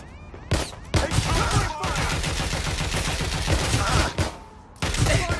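Gunfire in the Watch Dogs Legion game: dense, rapid volleys of automatic shots crackle almost without pause, broken by brief gaps and a few sharper single cracks.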